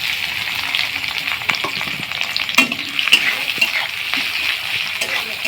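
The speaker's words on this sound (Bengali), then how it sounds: "দিয়ে পেঁয়াজগুলো লাল লাল করে ভেজে নেব।" Sliced onions with bay leaf and green chillies fry in hot spiced oil for ghugni, giving a steady close sizzle broken by scraping stirs and light clicks of a spoon against the pan.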